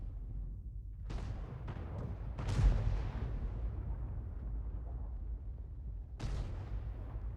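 Artillery fire from an M53/M55 self-propelled gun in a tank video game, with sharp booming shots at about 1, 2.5 and 6.2 seconds, each trailing off into a rumbling decay over a constant low engine drone.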